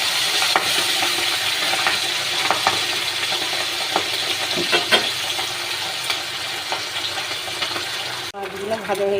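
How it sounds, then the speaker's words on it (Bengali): Pabda fish frying in oil in a kadai hiss with a steady, close sizzle, broken by occasional soft clicks and pops, before the sound drops away sharply near the end. "কড়াইতে আমি মাছগুলো ছেড়ে দিয়েছি। এবার ভালো করে ভেজে তুলে নেব মাছগুলো।"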